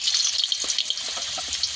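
Cut and washed potatoes frying in oil in a pan for a Bengali chicken curry, a bright, close, even hiss with faint ticking pops and no talk.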